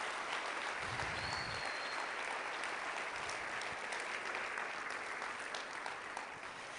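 A church congregation gives loud, sustained applause in praise of the Lord, a thick wash of many hands clapping that fills the room for the whole stretch without letting up.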